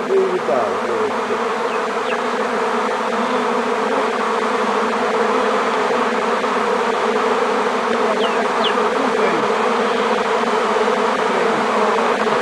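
A honeybee swarm buzzes steadily around apricot trees outdoors, a dense, continuous drone of many wings that holds for the whole stretch, with no talking over it.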